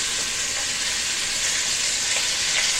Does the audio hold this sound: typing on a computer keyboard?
no